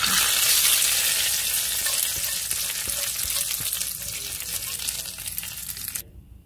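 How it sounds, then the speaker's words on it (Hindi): Tadka for dal, with green garlic and browned onion, sizzles loudly in hot oil, starting strong and gradually softening before cutting off sharply near the end. "चलिए इसको तड़का दे दूंगी 1 मिनट के लिए"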